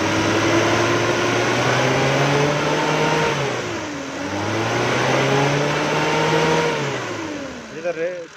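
A Mitsubishi Pajero Mini engine revved gently in steady pulls while its idle is adjusted for a misfire, rising and falling in pitch at close range, ending with a few short blips.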